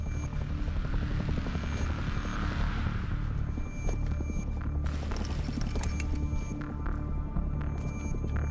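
A helicopter in the video game Rust throbs steadily with loud, rhythmic rotor chop and a droning engine hum, swelling closer as a burst of sharp gunfire-like clicks breaks out midway.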